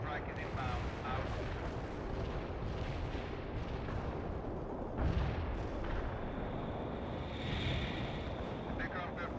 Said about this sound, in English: Anti-tank strike is inbound.